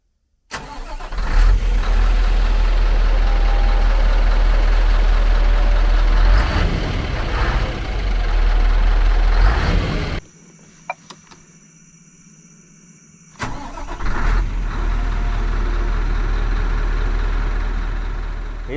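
Scania R560 V8 three-axle tractor truck cranks and fires up, then settles into a deep, steady idle; the engine cuts off briefly before restarting and idling again, close and loud.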